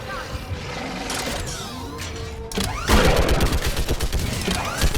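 Mounted gun firing in the Mass Effect 3 video game, a dense battle barrage of rapid repeated shots, loud and close, building into a heavier continuous volley, with voices shouting over the fighting.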